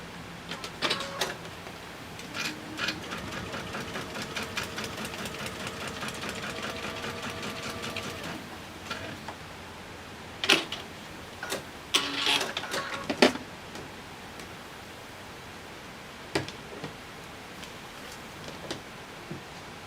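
A sewing machine stitches a quilt seam in bursts, its fast steady needle chatter running several seconds at a time, then pausing, with occasional clicks and handling thumps between runs; fairly close and moderately loud.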